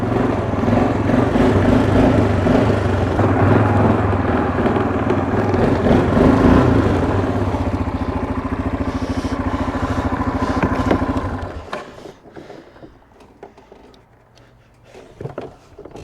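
A 2002 Yamaha Kodiak 400 ATV fitted for snow plowing runs in four-wheel drive, its engine droning loud and steady close by before dropping away to idle and scattered rustling.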